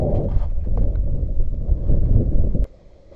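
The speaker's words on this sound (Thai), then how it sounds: "ลมแรงมาก" Very strong wind buffets the microphone outdoors while out fishing, a loud, rumbling, continuous roar that drops away suddenly near the end.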